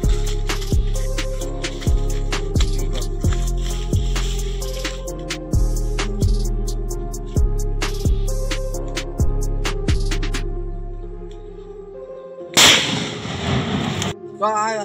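A bomb set off inside a drum in an outdoor experiment: a string of about a dozen sharp, echoing bangs at irregular intervals, then a sudden loud, noisy blast burst near the end.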